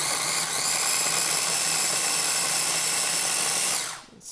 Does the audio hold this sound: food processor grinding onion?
yes